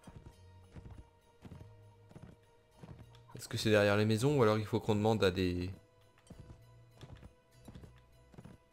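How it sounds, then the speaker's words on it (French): Horses clip-clop steadily across a village in Mount and Blade With Fire and Sword, the regular hoofbeats continuing under someone talking in the middle of the clip. "Là, il y a des chevaux."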